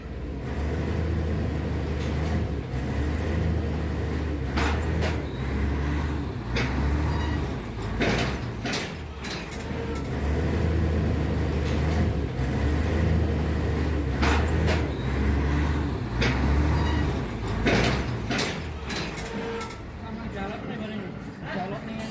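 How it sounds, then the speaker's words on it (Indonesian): A locomotive pushes loaded rail wagons carrying track switch rails backward, making a loud, steady, heavy low rumble with clanks and knocks all through. Voices can be heard faintly under it. "Lokomotif harus mendorong mundur lori bermuatan ram ini"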